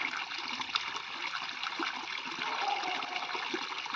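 Drinking water flowing out at a spot beside an old house with large trees, a steady broadband trickling rush that fills the clip at moderate level with no talk.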